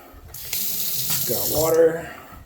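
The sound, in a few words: water running from bathroom vanity sink faucet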